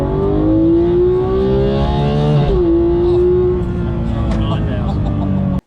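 A 2021 Chevrolet Silverado LTZ engine revs loudly and steadily up close, its pitch climbing, then dropping and settling into a sustained drone, with a voice talking over it.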